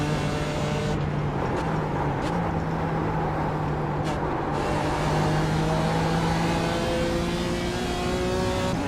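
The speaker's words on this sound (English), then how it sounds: "the AMG is going to sound so much better than the BMW" Mercedes-AMG GT4 race car engine in the iRacing sim on the Nürburgring, a steady droning roar that holds and shifts pitch across gear changes, continuous and fairly loud with no talk over it.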